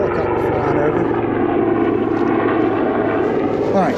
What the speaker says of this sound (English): The helicopter flying over